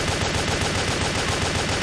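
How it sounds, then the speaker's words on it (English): Submachine gun fire in a PlayStation 3 shooter game, a dense, loud burst of rapid automatic shots that continues without a break. "That SMG's is nice."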